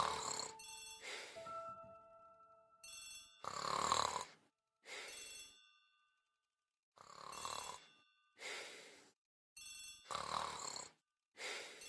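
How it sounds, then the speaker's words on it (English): An old-style telephone in a hallway rings in repeated double bursts, each a bright bell-like trill separated by pauses, clear and alone as a radio drama effect. "The telephone in the hall is ringing."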